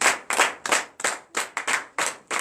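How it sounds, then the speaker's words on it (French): A church congregation claps in acclamation during a night service of deliverance and prophecy, with loud, sharp rhythmic bursts of hand claps repeating about every half second, close and with no voices. "Donnez l'acclamation à Jésus"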